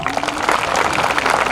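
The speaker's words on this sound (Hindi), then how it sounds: "उसके पहले जोरदार तालियां हो जाए" A university audience at an award event applauds loudly, a dense continuous wash of clapping hands filling the short stretch with no pause.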